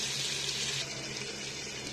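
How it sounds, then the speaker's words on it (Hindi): Boiled lentil cooking water with lentils poured into a pot of fried mutton and masala, a steady rushing pour that eases off partway through, close and alone. "जो दाल में उसका पानी था जो बॉयल किया हुआ था तो वो वाला ही मैंने इसमें डाला है"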